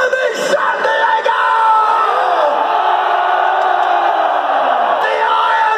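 Loud concert crowd at a show at North Island Amphitheatre in Chula Vista, screaming and yelling in one continuous roar that fills the whole stretch, near and dense.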